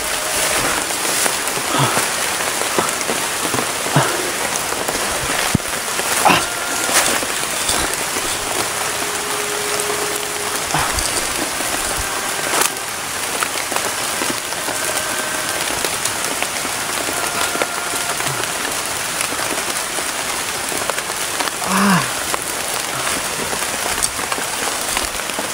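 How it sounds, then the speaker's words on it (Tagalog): Heavy rain pours steadily onto a surface, a dense, continuous hiss of drops that stays loud and even throughout, with a few brief knocks and spatters standing out. "Lakas pa ng ulan."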